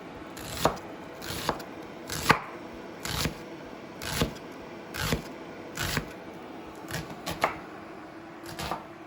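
A kitchen knife chops ingredients on a cutting board during a home cooking session, about a dozen crisp, close knocks in a loose, steady rhythm with short pauses between them.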